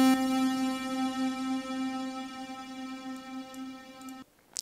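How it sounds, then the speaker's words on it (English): One sustained synth note from the Massive soft synth through a long reverb, holding steady for about four seconds before cutting off, with a faint lingering tail and a few tiny ticks at the end. "you can hear that it takes much longer to die down"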